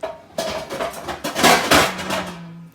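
Metal clatter as battered fish goes into a fry basket and down into a fryer: a sharp clank, then a loud rattling burst that fades to a low hum.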